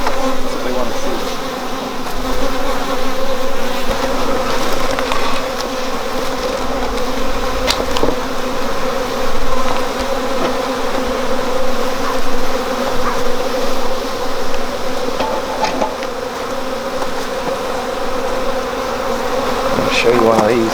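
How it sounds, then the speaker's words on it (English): Honeybees swarm a busy hive entrance, their dense, steady buzzing filling the air up close for the whole stretch. Individual bees zip past now and then, with no talking. "So if you look at the entrance on a day like today, there's just so much activity. Lots of bees in and out."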